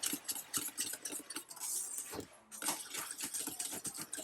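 A whisk beats lumpy chocolate pudding pie filling in a pot, giving quick, steady, rhythmic scraping and clinking strokes that stay close and moderately loud, with a brief pause partway through.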